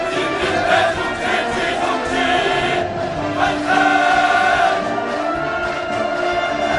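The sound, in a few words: crowd cheering enthusiastically at Pyongyang mass rally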